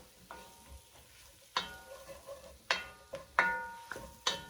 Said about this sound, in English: Add that, and then we'll give that a quick toss. Mix it nicely.